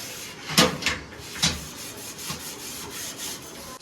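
A brush scrubs a kitchen chimney filter in a few brisk, close bristle strokes, followed by softer, quicker rubbing, with no speech.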